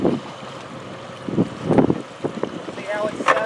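Strong crosswind buffets the microphone at a boat ramp while a boat is loaded onto trailer bunks, coming in irregular loud gusts with water and hull noise, and someone talks between the gusts.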